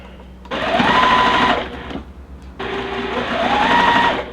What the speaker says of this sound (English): let's just try to sew them each block